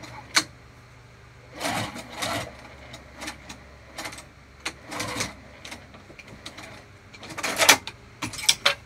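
Sewing machine stitching a crossbody bag, short bursts of rapid mechanical whirring broken by quiet pauses, with clicks and handling noise between runs, close and moderately loud.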